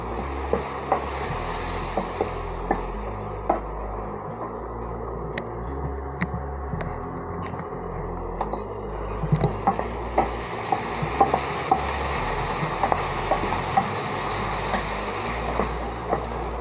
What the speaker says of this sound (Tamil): இப்போ வந்து இந்த கீரை நல்லா வதங்கட்டும்